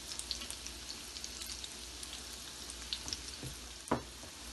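Besan phulki, gram-flour fritters, frying in hot oil, a steady close sizzle and crackle with a few sharper pops, no talking.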